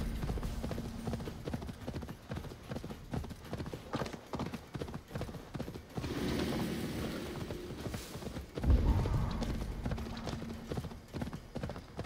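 A horse ridden at a steady pace through an open-world Viking-era game, hooves clip-clopping in a regular rhythm throughout, with a louder bump of movement near the end and faint voice underneath.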